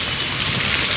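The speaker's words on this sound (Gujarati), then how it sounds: "વરસાદનો માહોલ ચાલુ થઈ ગયો છે" Light rain falls steadily in a Gujarati town during the monsoon, a continuous soft hiss of drops pattering on surfaces, close and even throughout with no other sounds.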